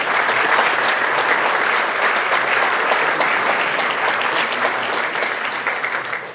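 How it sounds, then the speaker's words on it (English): Dense, steady applause from a large crowd at a high school awards night, continuing loudly for several seconds before starting to taper at the end. "So let's give a round of applause for that."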